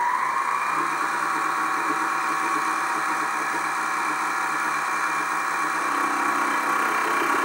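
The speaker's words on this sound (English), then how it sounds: "I'm gonna go ahead and just take a few milling cuts across it." A LittleMachineShop 3960 HT minimill takes milling cuts across sawn aluminum, giving a steady mid-pitched motor whine with a continuous cutting buzz, close and unbroken throughout.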